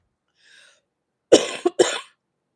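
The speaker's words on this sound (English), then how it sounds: "My cough is coming back." A person coughs a few times in quick succession, close and fairly loud, after a faint breath or throat sound; no speech.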